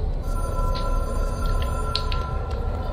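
A telephone rings inside a huge, strange room in the action video game Control, its steady electronic tones repeating over a constant low ambient drone, with no talking.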